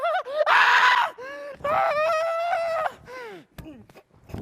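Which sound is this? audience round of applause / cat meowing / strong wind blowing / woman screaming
woman screaming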